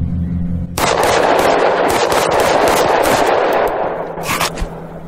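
Rapid gunfire in the zombie game TABZ, a loud sustained burst of shots that starts abruptly after a brief hum, rattling on steadily with a sharper crack near the end.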